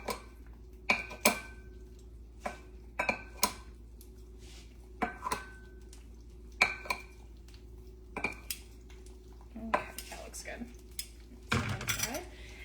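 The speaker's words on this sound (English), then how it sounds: "So I'm just gonna kind of rough chop my broccoli." Kitchen shears rough-chop broccoli in a series of crisp, irregular snips and clicks over a quiet room hum, ending with a louder rustling clatter.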